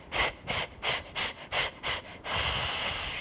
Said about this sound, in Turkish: Karşısında sanki 15 tane mum varmış gibi hızlı ve sık bir şekilde üflemesini istiyoruz